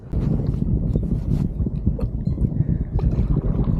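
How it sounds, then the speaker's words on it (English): Strong wind gusts buffet the microphone out on open water from a kayak, a steady loud rumbling roar with some splashy gurgling, no talking. "It is super windy out here"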